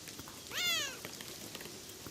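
A single short cat meow rings out in the video game Beyond Eyes, rising then falling, moderately close over a soft bed of rain.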